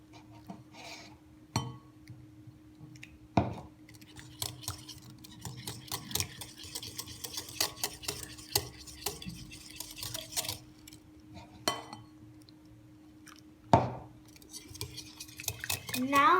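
Pancake batter being stirred in a bowl with butter and milk, a utensil clinking and scraping against the bowl in irregular strokes, close and fairly quiet, with a steady low hum underneath.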